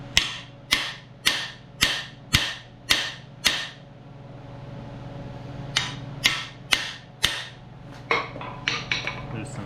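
Sharp metallic hammer blows drive a cam bearing into a small-block Chevy 350 engine block, a steady run of about seven evenly spaced strikes, a pause, then a quicker, denser cluster of hits, close and loud over a low hum.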